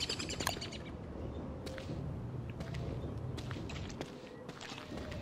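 Short, bright bird chirps and calls from the video game Don't Starve repeat irregularly over a busy, low game background, with soft thumps and rustling steps in between.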